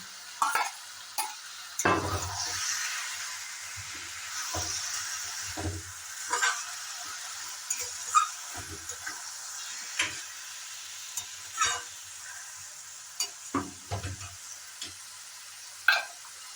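Fish heads frying in oil in a pan for a Bengali cabbage dish, with intermittent scrapes and knocks of stirring over a faint steady sizzle, close and fairly quiet.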